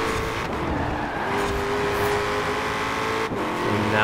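Ford Mustang RTR Spec 5 racing in Forza Horizon 4, a loud sustained engine drone with shifting pitch as the car holds speed, a couple of quick gear-change dips, with no talk.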